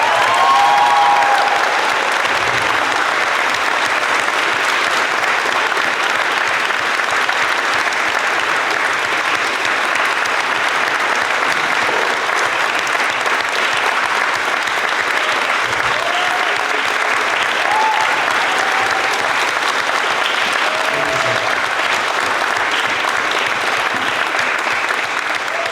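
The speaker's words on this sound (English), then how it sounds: "So if I could please ask you all for one big round of applause for them." An audience at an Edinburgh Union debate gives a big round of applause, dense continuous clapping from a large crowd that stays loud and even for the whole stretch.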